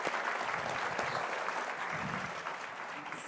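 Conference audience applauding panelists at a healthcare technology event: dense, sustained clapping from a full room, loud at first and easing slightly toward the end.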